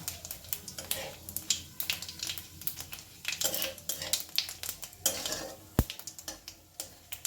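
Whole cumin seeds crackling in hot oil for dum aloo, a busy close sizzle with frequent spoon scrapes and metallic clinks against the pan, one sharp knock near the end, fairly loud throughout.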